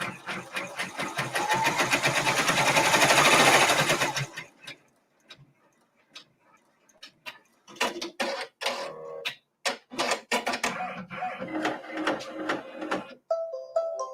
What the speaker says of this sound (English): now it's going to sew the present